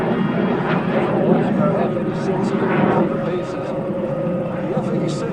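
An F-86 Sabre jet flies past at an air show, a steady, broad roar with a smooth engine tone that hangs at a moderate distance, with a faint voice over the noise.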